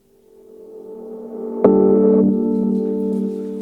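Music swells in gradually with sustained tones, then a sharp hit opens into a loud, washy reverberant tail that lingers and slowly fades.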